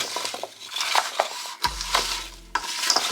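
Butternut squash being stirred with nutmeg and cinnamon in a pan, a close, scraping stir with soft crunching and faint sizzle, pulsing in short irregular strokes with a brief low thump midway.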